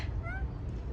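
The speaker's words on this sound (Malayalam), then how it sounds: "പൂച്ച" A short, faint meow from a cat rises briefly over a low background rumble.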